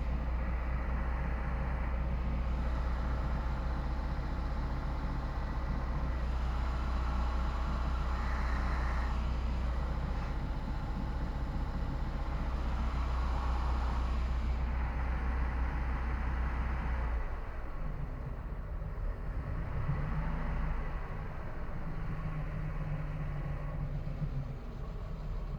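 A 1993 Maxum 1900SC boat engine idles steadily after a carburetor cleaning, a continuous low rumble with broadband noise running the whole time and a slight change in tone partway through, with no talk.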